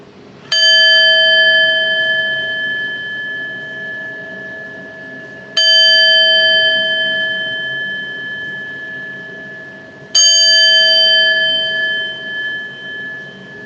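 Three ringing chime-bell strikes, about five seconds apart, each a bright clear tone with several sustained overtones that decay slowly and overlap the next strike, played alone in a quiet room.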